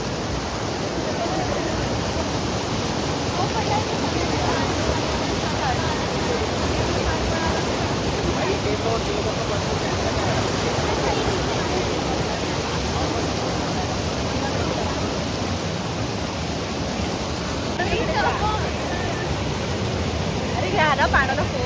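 Forceful water rushes at Barvi dam in a dense, continuous roar that stays close and loud throughout, with faint voices talking under it.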